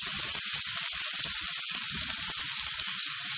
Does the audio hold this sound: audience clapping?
no